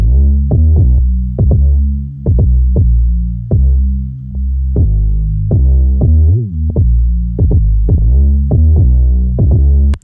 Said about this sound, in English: This just enhances the bass, makes it a lot fatter, a lot thicker.